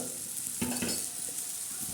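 Spiced matki usal masala sizzling in a pan while being stirred, a steady frying hiss broken by a couple of short scraping strokes of the spoon against the pan.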